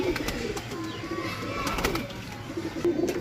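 Domestic pigeons of a long-winged flying breed coo softly and repeatedly, with faint chirps and occasional wing sounds in the background and no speech over them.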